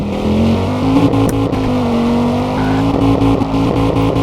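A modified car drifts in a video game, its engine droning at a steady high pitch that rises and dips with throttle, loud and close throughout with brief interruptions.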